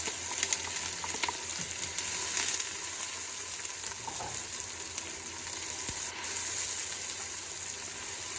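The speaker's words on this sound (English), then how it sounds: "then we're going to saute the onions" Onions saute in oil in a big pot, a steady, dense sizzle and crackle that holds throughout with occasional faint stirring scrapes and no voices.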